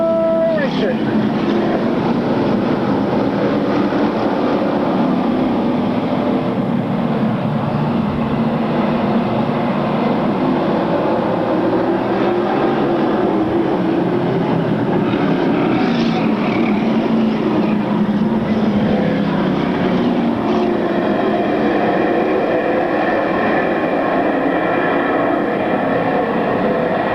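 Race cars rev along the back straightaway of an oval track in 1996, a dense continuous engine roar filling the whole stretch, loud and unbroken, with an announcer talking over it.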